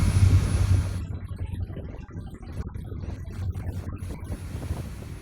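Low engine rumble and steady wind noise from a fast ferry on Sydney Harbour near Circular Quay, a continuous drone with gusts buffeting the microphone, no voices.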